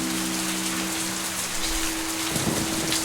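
Steady, moderately loud rain pours in a foggy video game world, a continuous hiss of drops with faint low tones beneath and a soft thump near the end.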